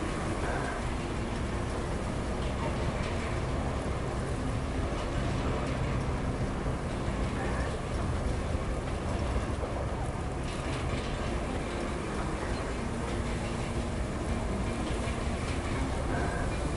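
Heavy vehicle in the Roadcraft video game, a loud continuous rumbling drone that drowns out another machine's engine, steady and dense for the whole stretch with no breaks.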